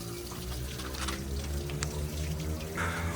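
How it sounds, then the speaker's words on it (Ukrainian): Dirty waste water pours out of a camper trailer's 110-litre grey-water tank, a steady, close, continuous gushing and splashing with a low rumbling undertone and no voices. "Відкриваємо і виливається брудна вода."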